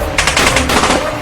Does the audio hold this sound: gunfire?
yes